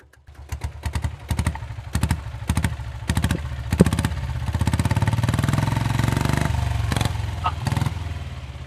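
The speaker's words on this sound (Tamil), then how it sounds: "வண்டி ஸ்டார்ட் பண்ணி காட்டுங்க." A 1995 diesel Royal Enfield Bullet motorcycle is kicked over with a few loud, separate thumps. It then catches and settles into a close, steady, clattering diesel thump that keeps running.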